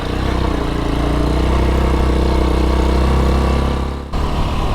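Motorcycle engine running loud and close as the bike pulls away on tarmac, a steady deep drone that dips briefly near the end before picking up again.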